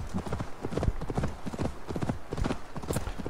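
A horse gallops in Assassin's Creed Valhalla, its hooves drumming a fast, even clip-clop rhythm up close and loud throughout, with no talk over it.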